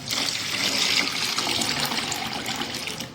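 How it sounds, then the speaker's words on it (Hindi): Water poured into a pot of soaked lentils for panchmel dal makes a close, steady splashing gush that lasts about three seconds without pause, with no talking. "अब मैंने इसमें डालना है पानी।"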